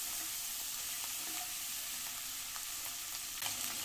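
Grated ginger and tomato fry with spices in a pan, a steady close hiss of sizzling with light stirring scrapes and small pops, no voices.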